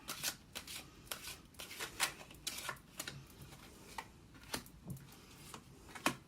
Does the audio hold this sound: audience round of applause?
no